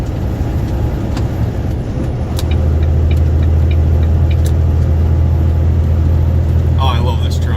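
Road noise from inside a moving truck: a steady engine drone that deepens and grows louder partway through as it accelerates, with faint clicks and a brief hiss near the end.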